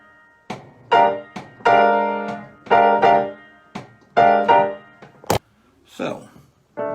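Keyboard chords voiced in fourths with octaves stacked on top, a series of short struck voicings and held chords in an uneven rhythm, close and clear, broken by a sharp thump and a brief voice near the end.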